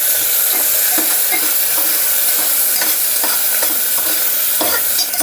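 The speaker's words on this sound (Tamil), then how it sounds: "இதில் வெங்காயம் ஆட் பண்ணிக்கலாம்." Onion sautéing in hot oil with cinnamon, bay leaf, fennel and star anise: a loud, continuous dense sizzle close up, broken by regular scraping stirs of a spatula against the pan.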